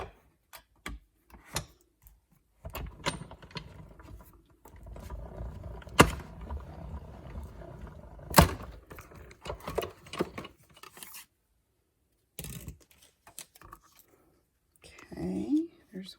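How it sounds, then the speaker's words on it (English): A Stampin' Cut and Emboss machine cranks sunflower card pieces through its rollers, giving a stretch of grinding, rumbling mechanical noise with a couple of sharp clicks, then short handling bursts and pauses. "we're going to get our Stampin' Cut and Emboss machine. And put that there. And we're going to cut these 3 out."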